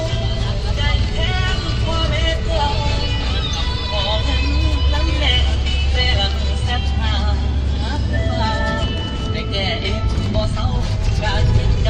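A bus rumbles and rattles along a bumpy road in Laos, its engine a steady loud drone with jostling noise throughout, while someone talks over it.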